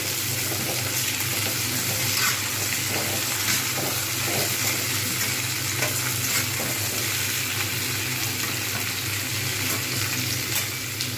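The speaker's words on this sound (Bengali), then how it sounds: "এটাও আস্তে আস্তে ভালোভাবে ভাজা হয়ে যাবে।" Tomato and green chili fry in a pan of hot oil, producing a steady, loud sizzle with bubbling and faint stirring sounds, close and uninterrupted.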